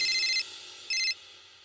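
A telephone ringing in a home during a family drama: two bright electronic ring bursts separated by a short pause, fairly clear with no talk over them.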